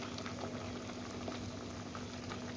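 Pork belly with pickled bamboo shoots simmering in a pot, a steady close bubbling and gentle sizzle that runs evenly throughout with a low hum underneath.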